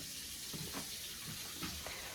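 Hot water runs steadily from a tap into a glass bowl in a kitchen sink, a soft continuous splashing hiss with slight gurgles, faint and alone.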